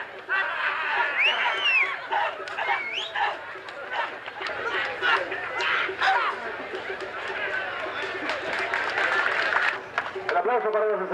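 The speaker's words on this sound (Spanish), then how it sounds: "El aplauso para los estudiantes de las escuelas East-West, Escuela de Karate y Kung Fu." A crowd applauds and chatters for karate and kung fu students from a San José school, the clapping scattered and steady under loud, echoing announcer speech and lively crowd noise.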